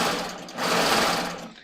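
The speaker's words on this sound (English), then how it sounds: "Let's serge this." A serger sewing machine runs steadily on fabric in a sewing studio, a loud, dense whirring buzz that dips briefly then surges again before trailing off, with no talking.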